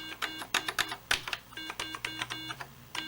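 Keys clatter on an old Atari computer keyboard in an uneven run of close, crisp clicks and taps, with short pauses between bursts of typing.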